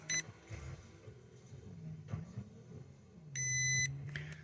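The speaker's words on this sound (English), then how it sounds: "you'll hear one long beep that indicates that the parameter is set" A single long electronic beep from an ESC in a Losi 1970 Chevelle 1/16 drag car holds steady for about half a second, after a short beep at the start and faint handling noise in between.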